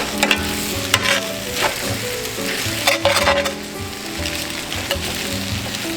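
Eggs sizzle and fry in a small cast iron pan for a veggie pad thai, with steady crackling and repeated scraping stirs and knocks of a utensil against the pan, close and clear.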